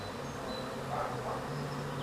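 Low, steady buzzing of Zulu honeybees around a hive, a faint continuous drone with a few higher passing whines, no voices.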